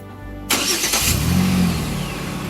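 A 2008 Jeep Liberty engine with a newly replaced muffler catches and settles into a steady, fairly quiet idle after a short burst, heard up close with no one talking.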